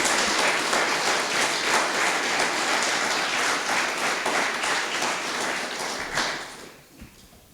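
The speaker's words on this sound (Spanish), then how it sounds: "¿Por qué no le das un aplauso al Señor?" A church congregation applauds in sustained, dense clapping that holds steady for several seconds, then thins out and fades near the end, with no speech over it.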